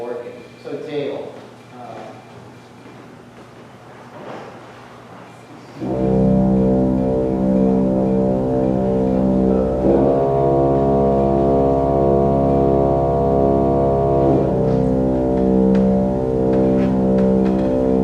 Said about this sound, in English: find a couple of notes on the organ that we could feel the vibration or the frequency of sound